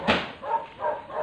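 A few short dog barks and yips in quick succession on a pig farm, close by and moderately loud.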